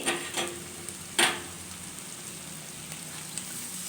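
Chicken fries in a pan with a soft, steady sizzle, broken by a few sharper crackles and spatters early on, then settling into a quiet, even hiss.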